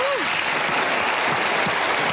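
A theater audience gives sustained, even applause for a magic act, and a voice cuts in briefly over the dense clapping.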